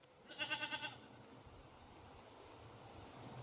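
A single short, wavering bleat from a goat on a small farm, quiet and somewhat distant, followed by a faint steady outdoor hiss.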